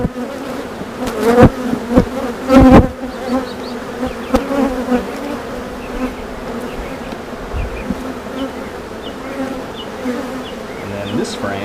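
A close, steady hum of honeybees fills a routine inspection of a single-deep hive, interrupted early by a few sharp knocks and clunks of frames being handled.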